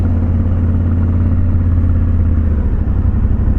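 Yamaha Tenere 700 motorcycle engine runs steadily and loud while riding, a continuous mid-pitched drone with smooth, barely noticeable gear changes and no speech.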